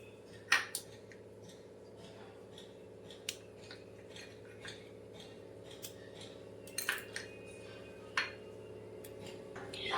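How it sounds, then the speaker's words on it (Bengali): Almonds being sliced thinly with a knife on a board, giving sparse, crisp cutting taps and clicks spread irregularly over a low, steady kitchen hum. "কড়াই গরম হচ্ছে, ততক্ষণে আমি শুধু এই যে বাদামগুলোকে কেটে নেব।"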